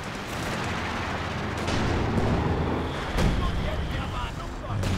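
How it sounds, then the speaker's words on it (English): Artillery shells come down in a Company of Heroes 2 battle as dull booming impacts with rumble and crackle. A sharper blast lands near the middle of a dense, continuous wash of combat noise. "And now it's the shells coming down close to the center."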